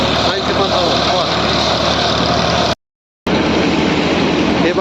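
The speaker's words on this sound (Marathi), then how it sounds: "1500 RPMला लाईव्ह व्हिडिओला आपला हा ट्रॅक्टर काम करत आहे" A Massey Ferguson 8055 50 HP tractor engine runs at 1500 RPM while doing silage work with green maize, giving a loud, steady broadband drone that cuts out briefly for a moment before resuming.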